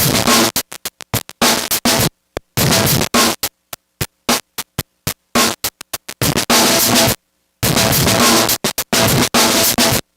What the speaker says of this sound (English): That is straight up wave shaping.